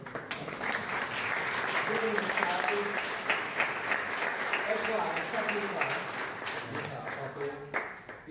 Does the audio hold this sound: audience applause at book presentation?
yes